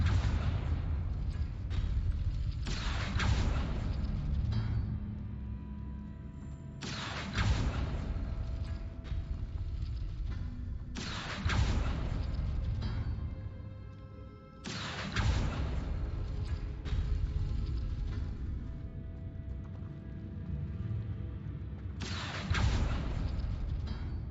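Confringo blasting spells fired in Hogwarts Legacy gameplay: heavy booming explosions burst in several clusters with rumbling debris tails, separated by brief quieter lulls, loud and close.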